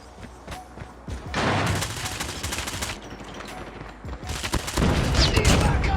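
Rapid automatic gunfire from an AS VAL rifle in COD Mobile, with dense bursts of shots and some gaps between them, close and loud, mixed with game effects.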